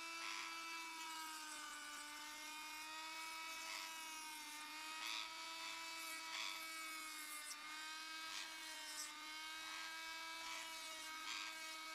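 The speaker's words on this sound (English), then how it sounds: "Here is a small clip of Rocky getting his beak trimmed" A small electric rotary tool trims a pet bird's beak, giving a steady high motorized whine that holds a constant pitch throughout. It sounds faint and close, with slight grinding bursts on top and no speech.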